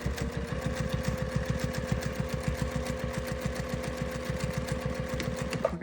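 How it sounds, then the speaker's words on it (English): Domestic sewing machine stitching fabric binding around the edge of a jar opener pad, a steady rapid needle rhythm running continuously at close range with no voices. "continue to sew until you meet up where you started on the outside of your binding"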